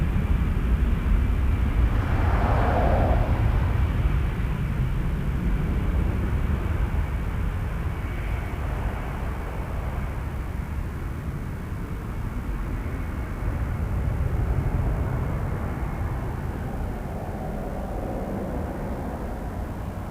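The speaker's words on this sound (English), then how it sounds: "Air Canada 263 headed to Winnipeg, A320." An Air Canada A320 airliner takes off from Toronto Pearson, a steady, broad engine roar holding loud and even across the whole stretch with a slight swell early on.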